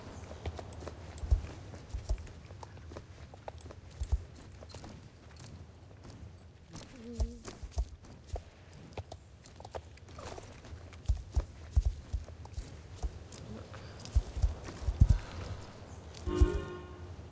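A pony's hooves clop slowly at a walk in the fantasy video game Mistfall, soft, uneven steps running steadily in the background, fairly faint.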